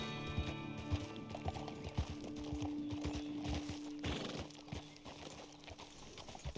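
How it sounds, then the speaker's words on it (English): Horse hooves clip-clop steadily over rocky ground in Red Dead Redemption 2, the footfalls shifting in tone on the stone, with a faint whinny and game ambience underneath. "I like how the sound of the hoofs change on the rock."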